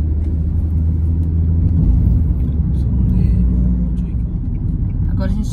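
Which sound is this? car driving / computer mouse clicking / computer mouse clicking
car driving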